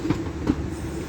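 A Northern Class 323 electric multiple unit eases into Stoke-on-Trent station, giving a faint low rumble with a brief metallic wheel squeal and a soft knock, heard alone.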